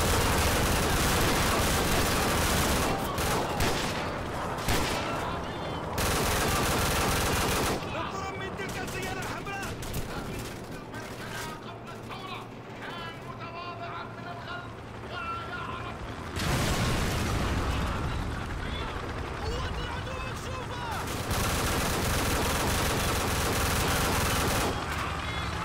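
Video game gunfire rattles in dense, continuous bursts and volleys that pause and resume, loud and close in the mix, with a voice speaking over the shooting.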